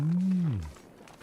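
A single loud, low, drawn-out moaning call from a moose in the survival video game The Long Dark, falling in pitch and trailing off after about half a second.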